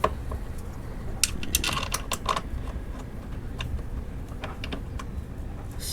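A bolt being snugged up on a Yoshimura exhaust fitted to a 2021 Honda CRF110, with close metallic clicks and rapid ratcheting taps over a low mechanical hum.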